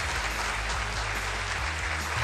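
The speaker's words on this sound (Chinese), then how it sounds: "掌声有请。" Studio audience applause welcoming a medical professor onto a Chinese health talk show, a steady dense clapping that fills the whole short stretch at even loudness.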